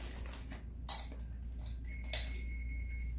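A utensil scoops and scrapes ricotta cheese mixture out of a pan, giving a few light clinks and scrapes over a low steady hum, with quiet gaps between them.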